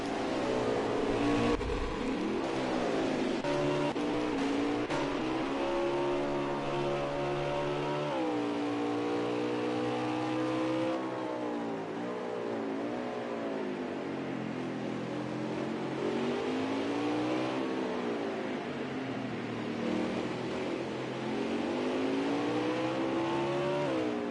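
RC race cars in a Monster Energy racing league event at Indianapolis whine continuously around the track, engines rising and falling in pitch as they accelerate and brake, loud and steady throughout.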